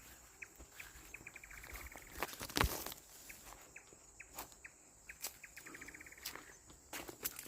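Insects chirp in a forest at night, with repeated short trilling bursts spread across the clip, fairly faint and distant, and a brief louder rustle partway through.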